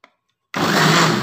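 After a brief silence, a kitchen blender switches on loudly and whirs steadily, mixing pancake batter with a constant high-pitched motor roar and no talk.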